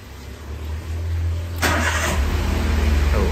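A car engine is started through a keyless starter module's short-starter switch: a brief steady hum, a quick crank, then the engine catches into an even idle with a rhythmic pulse, close and fairly loud.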